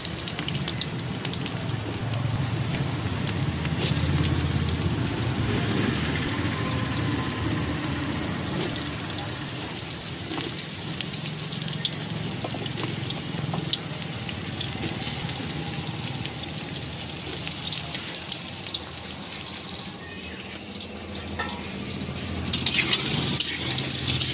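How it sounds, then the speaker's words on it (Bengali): Potatoes sizzling in hot oil with panch phoron spices, a steady dense crackle and hiss that runs throughout, close up and fairly loud, with a brief stronger burst of spattering near the end. "হয়ে গেলে আলুটা একটু ভেজে নিই"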